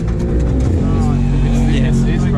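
A Ford FPV F6 at a roll racing event idles with a deep, loud, rumbling drone and a rattly edge, heard close under nearby voices.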